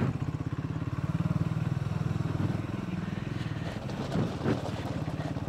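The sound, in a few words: Triumph Scrambler 400X off-road motorcycle riding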